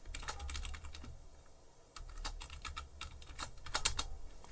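A root password is typed on a computer keyboard in a quiet room: a quick irregular run of soft key clicks, close up, with brief pauses between bursts and no talk.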